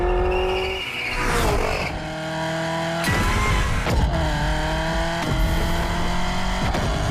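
Genti Accolone car in The Crew Motorfest, a loud engine revving and shifting through gears with tire squeal and skidding, several sharp acceleration bursts close by.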